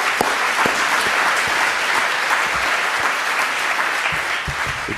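Audience applause at a fashion forum, a steady, dense wash of clapping from a crowd that holds at an even level throughout without pause.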